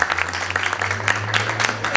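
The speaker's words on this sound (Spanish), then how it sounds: "Muy bien, un aplauso para ella." Steady applause from a small audience, a dense patter of clapping hands that carries on evenly for the whole stretch, with a low hum underneath.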